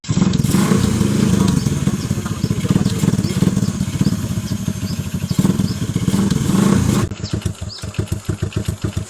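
A motorcycle engine runs loud and close with a steady, rattling roar for several seconds, then drops into a choppier, pulsing idle near the end. No speech is heard.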